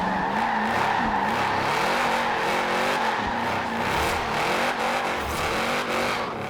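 A 2012 Shelby 1000 in Forza Horizon 4 drifts in second gear, tires squealing in a continuous wavering screech over a loud, steady engine roar for several seconds.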